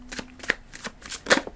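Tarot cards being shuffled by hand, quick papery riffles and soft slaps in short bursts, close and clear with no voice over them.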